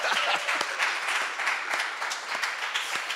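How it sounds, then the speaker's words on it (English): Warm round of applause from an audience at the official opening of a campus venue, dense clapping with individual sharp claps popping out, sustained and close throughout. "We need to give it a more warm round of applause"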